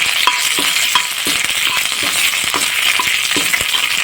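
Fennel seeds and curry leaves sizzle in hot oil for a yam fry, a steady bright crackle close by, punctuated by regular light clinks and taps of a spoon against the pan, with no talk.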